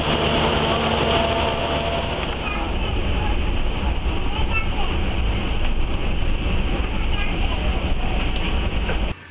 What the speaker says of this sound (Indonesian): Oke, sudah diberangkatkan dari stasiun Purwokerto